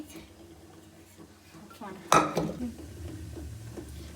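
A utensil scrapes and clinks against a pot of soup while it is stirred, with one sharp metallic clank midway, quiet kitchen clatter before and after, and a voice speaking underneath.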